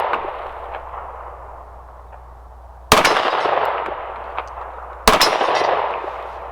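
Two sharp, loud shots from a Dan Wesson ECO 9mm pistol fired at an outdoor range target, each ringing out into a long, fading echo.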